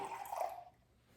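Filtered water poured into a jar for a sourdough leaven, a short soft splashing trickle that fades out within about half a second, close and quiet.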